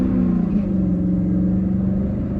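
Chrysler 300C accelerating on a quick takeoff, a loud, close, steady engine rumble with a slight rise in pitch over a couple of seconds.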